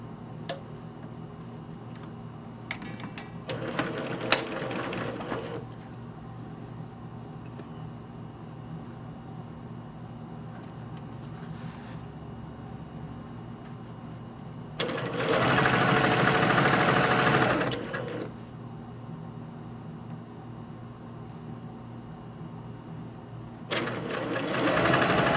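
A domestic sewing machine stitches a 1/4 inch seam on a shirt in two separate runs, a steady close whirring burst of a few seconds each, with a quiet background hum and faint ticks between them.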